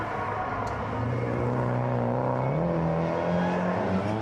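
A Nissan R32 sedan, fitted with an RB25 engine and an HKS 2540 turbo and shifting through an R33 five-speed, drifts at Nikko Circuit. Its engine drones loud and steady, and the pitch climbs as it revs, with no break.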